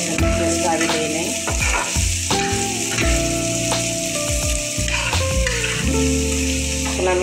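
Onion and chilli frying in a pan, a loud, close crackling sizzle with repeated scraping stir strokes and clattering utensil knocks.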